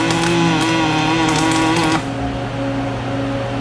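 An automated dual-bay MIG pipe welding system works on an 8-inch schedule 40 pipe weld, giving a loud steady electric buzz with crackle that shifts and settles to a lower, quieter hum partway through.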